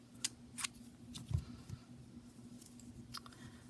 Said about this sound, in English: here I'm going to cut my yarn